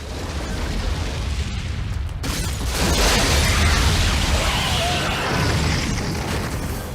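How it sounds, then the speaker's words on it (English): A missile strike blows up the whole Madison Square Garden complex in a loud, rumbling explosion that swells from about two seconds and roars on as a dense, sustained blast with no talk. "The missiles go fast and hit the entirety of Madison Square Garden, causing the entire complex to blow up"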